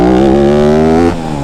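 Yamaha YZ250F dirt bike engine pulling in third gear without the clutch, a loud, close, steady drone with rising pitch that drops off sharply near the end as the throttle closes.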